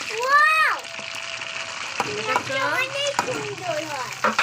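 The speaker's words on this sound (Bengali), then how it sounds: "তো তেল গরম হয়ে গেছে এবার দিচ্ছে পেঁয়াজ" Onions sizzle in hot oil beneath a child's high-pitched chatter and an adult voice, the frying a steady hiss under the talk.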